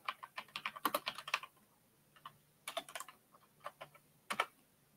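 Keys on a computer keyboard clatter in quick, quiet bursts of typing, three short runs of close keystrokes separated by brief pauses in a calm room.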